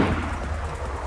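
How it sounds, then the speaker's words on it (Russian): A single gunshot in the survival video game DayZ, set on the Namalsk map, lands as a brief muffled report at the start and then fades into a low rumbling tail. "Выстрел, чей?"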